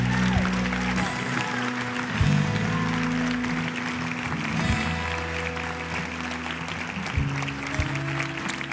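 Church congregation applauding strongly during a worship service, sustained clapping over a steady background of sustained musical tones, with faint voices mixed in.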